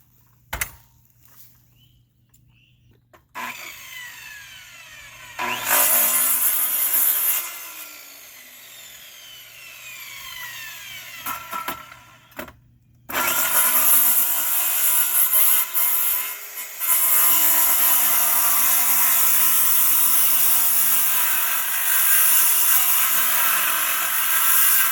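A Sawzall reciprocating saw cuts through wood during demolition on a pavilion build. After a quiet start, loud rasping bursts of cutting come in from about five seconds, then a long, steady stretch of cutting runs close and loud to the end.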